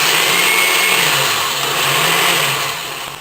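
A blender whirs steadily as it grinds crushed cookies with a splash of milk, a loud, continuous motor drone with a slight dip and swell in pitch and no voices.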